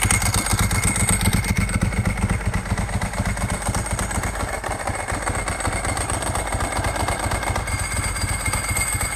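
Ducati motorcycle engine with a dry clutch, started and running in gear: a steady, loud, close mechanical rumble with a rattling clatter throughout, no voices.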